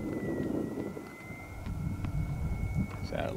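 An X-Fly Eagle flying wing with twin 40mm electric ducted fans comes in to land, its fans giving a steady high whine under a mix of wind noise and people talking nearby.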